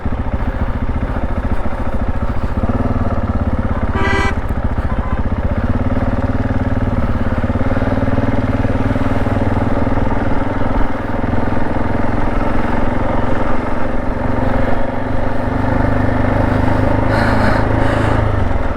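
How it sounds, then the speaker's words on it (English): A motorcycle engine idles steadily in a test run after a fuel line was removed, a continuous low rumble close by with a brief rise in the middle. "So now we will test if the bike works."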